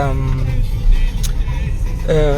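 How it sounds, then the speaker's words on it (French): A Yango ride-hailing car drives through a street near a station in Cameroon, its low engine and road rumble steady inside the cabin while a passenger talks over it. "On est en train de rouler comme ça."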